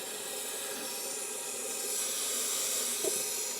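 Aerosol rust protectant sprayed inside a truck frame, a steady continuous hiss lasting the whole stretch with no talk.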